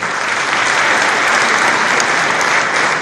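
A crowd at a Madhya Pradesh sports awards ceremony hosted by Chief Minister Shivraj Singh Chouhan breaks into loud, sustained applause, a steady dense roar of clapping from many hands throughout.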